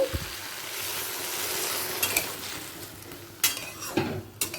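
Water hits a pan of potato and pointed gourd curry, giving a steady close sizzling hiss punctuated by a few sharp clinks of a utensil against the pan.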